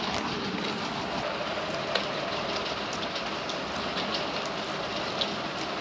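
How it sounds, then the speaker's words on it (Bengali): Water splashes and patters steadily onto pointed gourd plants, a dense rain-like hiss holding through the whole stretch with a couple of slightly sharper drips. "বৃষ্টি হচ্ছে না, পটলে জল পড়ছে"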